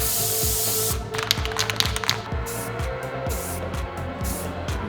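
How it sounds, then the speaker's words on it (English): A steady hiss of a spray can painting a car body panel on an abandoned Porsche runs continuously, close and loud, with faint rhythmic ticking underneath. "Let's spray paint this so that it's all good and clean."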